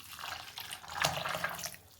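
Water pours into a vessel of raw peanuts for washing, a short continuous splashing gush that swells briefly in the middle.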